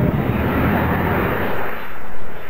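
The aircraft carrying Space Shuttle Endeavour arrives at Los Angeles airport with a loud, continuous broadband engine roar that stays steady and close throughout.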